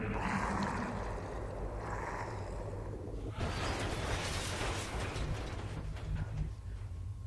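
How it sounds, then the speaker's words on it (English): Fire and explosions in the video game XCOM: Enemy Within make a low, quiet rumbling roar that swells after a brief lull, with no talking over it. "I think that was a fire somewhere that was causing that sound."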